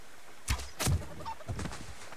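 Chicken in the game Subsistence, giving a few short clucks mixed with soft thunks, three brief bursts over a hushed background.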